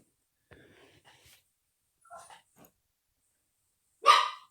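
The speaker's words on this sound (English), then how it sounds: "What are you barking about?" A dog gives a few scattered soft yips and whines, then one loud, sharp bark close by at the end.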